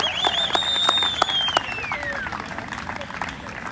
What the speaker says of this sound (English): A nice round of applause for our Dunwoody seniors tonight